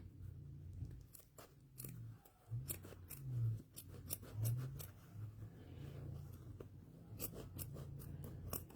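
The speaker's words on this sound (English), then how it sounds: "Yeah, I could have gotten a sharper pair of scissors." Scissors snip through fabric while quilt blocks are cut, a series of crisp crunching cuts in irregular bursts, close to the microphone over a quiet room.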